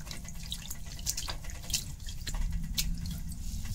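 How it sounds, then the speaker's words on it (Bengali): Water is poured off and splashes into a sink while homemade Bengali rasgulla is being made with alum, giving a steady trickling, dripping wash with a few brighter splashes, close by and without talk. "এটা জলটা ফেলাই দেই"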